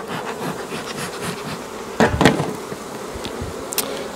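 Honey bees buzz around an open hive frame at an apiary in Saint-Cyr-sur-Mer, a close, wavering drone with a sharp louder burst as one flies right past, alongside faint knocks of hive handling.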